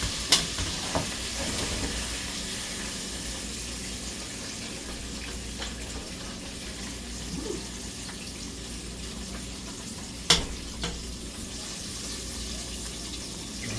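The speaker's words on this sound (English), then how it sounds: "you can tell by the sound too when the frying settles down" Chicken fries in hot oil with a steady, dense sizzle throughout, a few sharp clinks and stirring noises breaking through, close and continuous with no talking.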